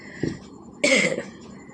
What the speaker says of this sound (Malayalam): ചുമ പിടിച്ചിട്ടുണ്ട് അതാണ് ഇടയ്ക്കിടയ്ക്ക് ഇങ്ങനെ